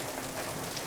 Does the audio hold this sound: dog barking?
no